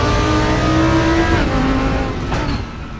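A GT2 race car engine in the video game RaceRoom, loud high-revving with clear gear changes and rising and falling pitch, alone and close.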